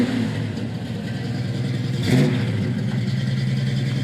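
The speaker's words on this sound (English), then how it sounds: "Great sounding dual exhaust." Hugger Orange 1969 Camaro with a GM 350 crate engine, four-barrel carb and dual exhaust, idling with a steady rumble and one brief rev swelling near the middle, close and loud.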